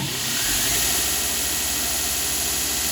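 A belt sander grinder in a metal shop runs with a steady, loud broadband whir that holds continuously without a break. No one speaks.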